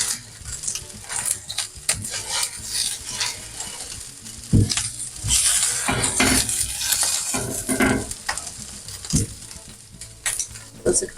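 A cheesy beef birria taco fries in oil until crisp, with a loud, continuous close sizzle and frequent metallic clanks and scrapes from a utensil against the pan.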